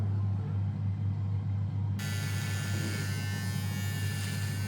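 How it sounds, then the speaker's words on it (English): An electric trimmer runs on a beard with a steady, close motor buzz throughout. Midway the tone brightens and gets harsher as the blades meet the hair, with no talking over it. "Should be in the YouTube beard trimming business."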